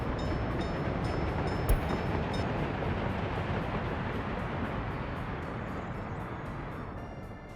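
A train rolls past in the city-building game Workers & Resources: Soviet Republic, a steady rumbling wash with faint rhythmic clicks and one sharp tick, heard alone without voices.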